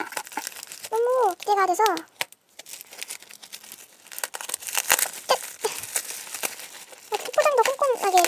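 A small package wrapped in bubble wrap is torn open, giving crinkly, crunchy bursts of plastic close to the mic, with a person speaking between them.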